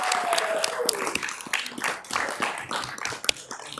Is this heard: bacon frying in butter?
no